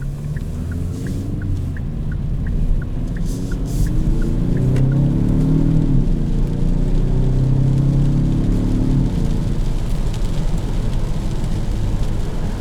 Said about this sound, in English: As you can tell, the 4-cylinder does still have plenty of power.